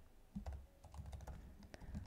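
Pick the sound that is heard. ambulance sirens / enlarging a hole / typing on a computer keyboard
typing on a computer keyboard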